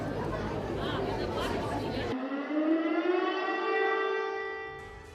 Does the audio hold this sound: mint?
no